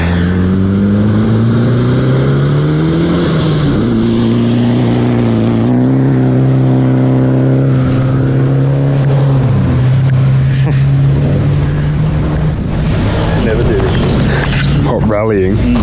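Rally car engines roar on a dusty stage at the Gippsland Rally, a loud sustained drone whose pitch climbs and holds as cars speed past, with people talking over it.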